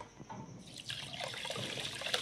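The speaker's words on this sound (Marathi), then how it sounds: "चांगलं 2-3 पाण्याने धुवून घेते मी." Rice being rinsed in water, with sloshing, trickling and dripping sounds that grow busier after a quieter start, close up and without speech.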